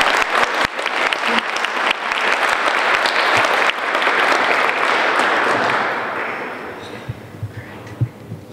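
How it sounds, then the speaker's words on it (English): A room full of people applauds an award recipient at an institute's award presentation, a loud sustained round of clapping that fades out toward the end with a few scattered last claps. "let's give her another round of applause to Tebby"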